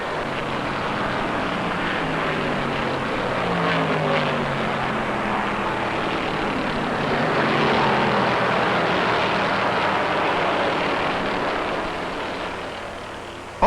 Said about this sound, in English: That Chevy is wound out at 163 miles an hour.